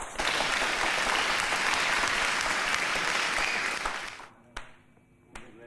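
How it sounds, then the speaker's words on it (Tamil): Audience applause for a school student at a Tamil Thirukkural speaking contest: dense, steady clapping fills about four seconds, then fades to a few scattered claps. "ஒரு நல்ல கைத்தட்டல் கொடுக்கலாம்"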